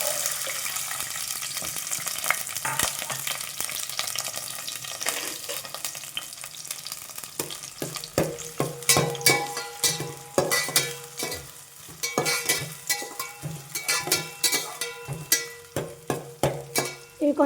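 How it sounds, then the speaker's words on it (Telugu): Chopped onions and green chilies fry in hot oil, giving a steady sizzle broken by frequent stirring scrapes and clatter from the pan, close by and with no voices. "ఇవి కొంచెం బ్రౌన్ కలర్ వచ్చే వరకు అయితే వేయించుకుందామండి."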